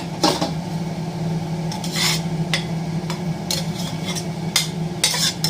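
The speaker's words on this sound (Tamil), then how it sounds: "பேசனில் தட்டி வைப்போம் தக்காளி சாதத்தை." Metal scraping and tapping as tomato rice is tipped from a pressure cooker into a metal basin, with repeated clanks and rasping scrapes over a steady hum.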